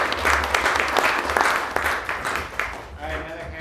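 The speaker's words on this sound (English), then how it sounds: "And a round of applause for yourselves." Audience applause at a tech demo event, a full round of clapping that gradually thins and fades, with a voice starting up near the end.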